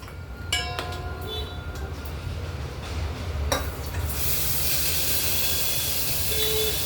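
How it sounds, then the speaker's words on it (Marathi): Ground spice paste with ginger, garlic and coriander added to a pan of crackling cumin and mustard seeds, giving a steady broadband sizzle that swells louder after a few clinks of a utensil, with no talking. "हे वाटण्यात घातलं की ते जिरं मोहरी सोबत असं छान परतून घ्यायचं"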